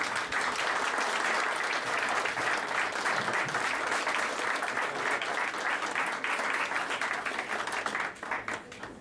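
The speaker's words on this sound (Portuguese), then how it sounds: "por favor les den un aplauso" Audience at a cataloguing and metadata conference applauds as certificates are handed out, a dense, sustained clapping that holds steady for several seconds before thinning slightly at the end.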